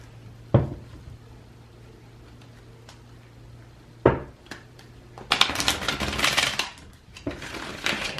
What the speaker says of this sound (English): just gonna give that one more shuffle